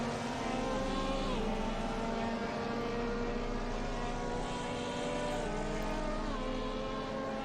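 Race car engines roar steadily on the Watkins Glen circuit in Assetto Corsa, a sustained, loud, multi-layered whine with pitch shifting gradually as cars run close together throughout.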